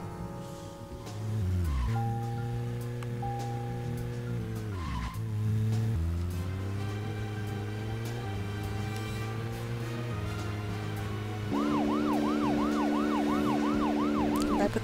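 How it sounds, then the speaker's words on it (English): A police car siren wails in the video game Deadly Premonition over steady engine and music tones, holding loud and continuous before rising into a fast, looping yelp near the end. "If I put the sirens on, I can go up to 60."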